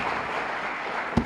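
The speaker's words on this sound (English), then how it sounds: "One more round of applause for the graduates." Audience at a technical institute graduation ceremony applauding the graduates, a steady wash of clapping from many hands with one sharper thump near the end.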